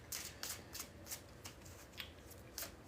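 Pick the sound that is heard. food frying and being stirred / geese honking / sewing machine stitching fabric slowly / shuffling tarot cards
shuffling tarot cards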